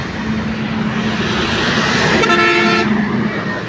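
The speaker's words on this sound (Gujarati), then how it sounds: "હોર્ન મારી દીધો" A vehicle horn honks in a short, loud toot over a steady drone of road and engine noise.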